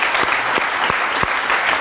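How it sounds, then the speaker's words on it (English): An audience at a school art prize-giving applauds the school band, a full, steady round of clapping with a few sharper individual claps popping out near the front. "give a quick round of applause for the band"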